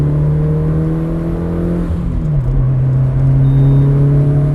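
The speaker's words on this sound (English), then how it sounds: "It's loud like a race car, too." A loud, track-ready Mitsubishi Lancer Evolution IX SE engine drones close by, its pitch holding steady and then shifting slightly as it revs, with a constant low rumble.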